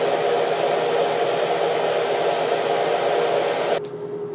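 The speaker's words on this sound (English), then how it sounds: "Portable hooded dryer." A portable hooded hair dryer runs with a steady, loud broadband whoosh and a faint motor hum, cutting off sharply near the end and leaving a quieter residual hum.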